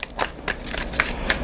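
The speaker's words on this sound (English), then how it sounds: "Two more shuffles." A deck of tarot cards is shuffled up close in quick riffling bursts, crisp papery flutters repeating for a moment with no talk.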